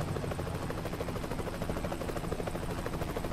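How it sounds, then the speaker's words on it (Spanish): Helicopter rotor in the American Truck Simulator game, a steady dense whirring thrum that stays loud and constant throughout with no talk over it. "Sí, hay un helicóptero"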